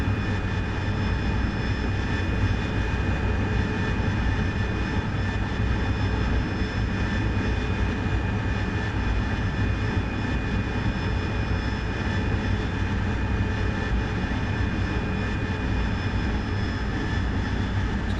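Steady, continuous roar of F-18 jet engines in the DCS World flight simulator, a dense unbroken drone with tonal whine layered over low rumble, no voices.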